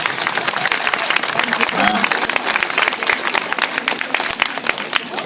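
An audience bursts into loud, dense clapping before a performance begins, a busy continuous wave of applause with crowd voices mixed in throughout.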